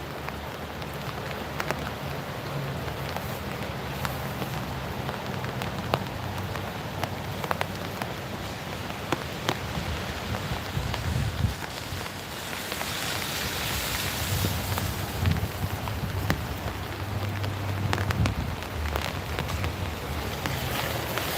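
Heavy rain falls steadily outdoors, a dense continuous hiss and patter, fairly close, with a few sharper drops and some low rumble underneath, no talking.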